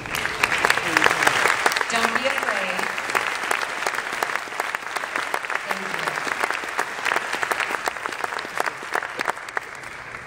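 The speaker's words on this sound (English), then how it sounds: "let us give you one more round of applause" Steady audience applause at a high school district choir concert, honoring standing choir educators, sustained and fairly dense for the full length, with a few voices speaking over it.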